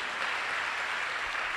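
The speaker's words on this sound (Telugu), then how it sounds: "కొట్టి చప్పట్లు ఒకసారి." An audience at a church sermon claps together in a dense, steady burst of applause that holds evenly through the whole moment.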